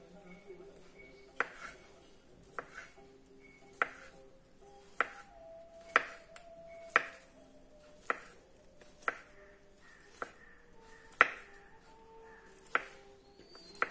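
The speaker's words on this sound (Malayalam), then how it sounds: "ഇതേമാതിരി നമ്മളെല്ലാ പഴവും അരിഞ്ഞെടുക്കണം വളരെ ചെറുതായിരിക്കണം" A knife chops peeled bananas into small pieces on a board for a banana varattiyathu preserve, giving about a dozen sharp, evenly spaced chops, roughly one per second, close by, over a faint tonal background.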